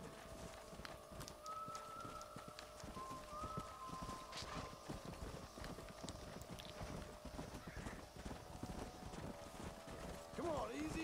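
Horse hooves clip-clop in the Red Dead Redemption video game, a steady trotting rhythm with a whinny, set against game ambience and wind, at moderate loudness.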